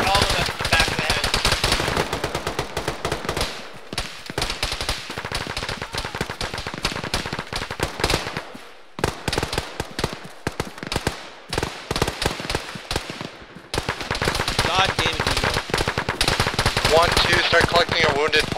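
Rapid automatic gunfire aimed at a squad, loud and close, in dense sustained bursts with a few brief gaps before resuming at full intensity.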